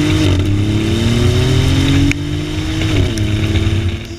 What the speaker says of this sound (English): it's the best sounding 3-cylinder you've ever heard in your entire life